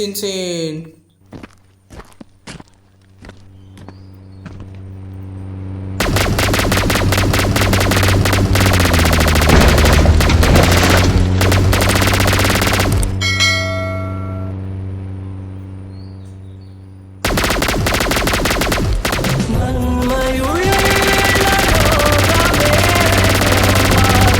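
Machine gun fire in the Indian Bike Driving 3D video game comes in rapid bursts over loud game music and effects, with stretches of quieter gameplay in between and a voice talking along.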